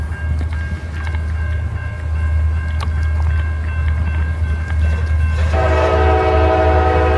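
A northbound CSX freight train with locomotive 6408 rumbles past steadily at Lake Wales Junction, and its horn sounds loud and sustained for the last couple of seconds.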